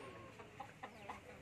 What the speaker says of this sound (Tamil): இந்த நாட்டுக்கோழி பண்ணையில் பார்த்தீங்கன்னா கிட்டத்தட்ட ஒரு 200-300 நாட்டுக்கோழிகள் இருக்குது.